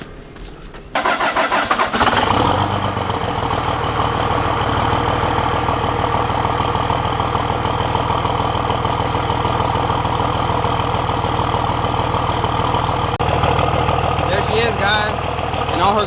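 A Ram 3500 work truck with a 5.9 Cummins diesel and a hood stack cranks over and fires on a cold start, then settles into a loud, steady, clattering idle close by.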